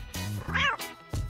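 A cat meows a few times indoors, short close calls in quick succession with no one speaking.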